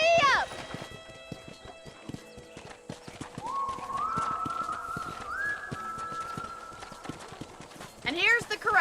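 Horse hooves clip-clop at a steady trotting rhythm during riding in the video game Red Dead Redemption, with a rider's call at the start, a horse whinny near the end and a faint background tone.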